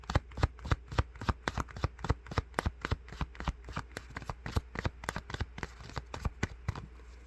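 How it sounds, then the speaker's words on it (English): A deck of cards being shuffled up close, a steady run of about two dozen crisp, snapping riffles at an even, brisk rhythm, with no voices over it. "ethically shuffle on camera."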